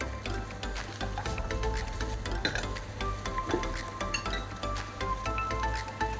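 Fujian fried rice with a pinch of salt sizzles steadily in a hot pan, a continuous close frying hiss broken by scattered light clinks and scraping stirs, with no talking.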